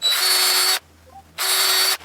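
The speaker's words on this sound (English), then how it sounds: "So all I'm going to do is drill a couple pilot holes." A power drill bores pilot holes through a router jig in two loud, high-pitched whining bursts separated by a short quiet pause.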